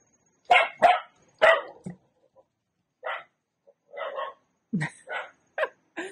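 Several dogs bark close by in loud, sharp bursts, some in quick pairs and others spaced out, with occasional softer yips and whimpering sounds between the barks against a quiet background.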